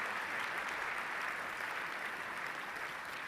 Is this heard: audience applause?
yes